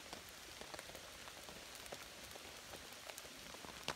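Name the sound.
steady rain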